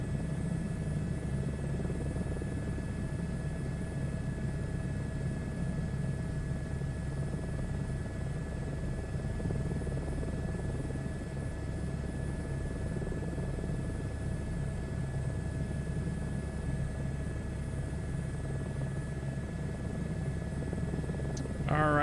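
Continuous steady Airbus H125 helicopter rotor and engine drone in a flight simulator game, heard from inside, unchanging throughout.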